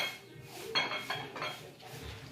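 Dishes being washed, with plates and cutlery clinking and clattering in a few sharp bursts amid running-water-like hiss, close and moderately loud.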